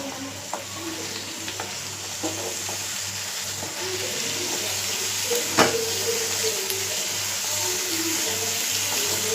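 Radish cooks in a pan over a high flame, giving a steady, even sizzle throughout with occasional soft scrapes and clinks of stirring and no talking.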